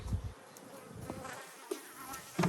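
Bees buzz around an open beehive during an inspection, with an intermittent close-up drone as individual insects fly past, plus scattered handling bumps and a louder pass at the end.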